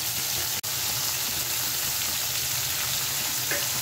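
Bitter gourd frying in a pan for milk shukto, a steady broadband sizzle that stays even throughout, close, with no voices.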